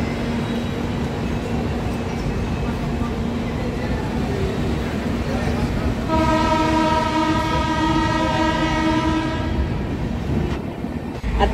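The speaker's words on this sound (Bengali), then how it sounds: "আর ট্রেন কিন্তু চলছে দুর্দান্ত গতিতে, দেখতেই পাচ্ছ 130 তুলে নিয়েছে স্পিড, দারুণ স্পিডে চলছে।" Vande Bharat Express running at about 130 km/h between Howrah and Puri, heard from inside the executive class coach as a loud steady rumble, with a sustained horn blast partway through.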